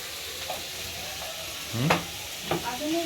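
Dal cooks in a pan, a steady sizzle and hiss running throughout, with a couple of brief stirring scrapes and clatters partway through, close by.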